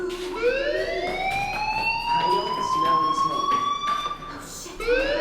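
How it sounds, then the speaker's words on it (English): A fire alarm in the video game Life is Strange sounds as a loud, sustained rising electronic wail that repeats as a siren-like sweep, with speech faintly underneath. "Hey, do you hear that fire alarm?"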